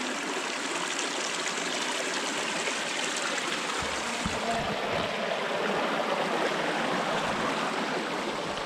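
A river stream flows steadily at a trail crossing near Moab, Utah, a loud, continuous rushing and splashing of water throughout, close by and without talk.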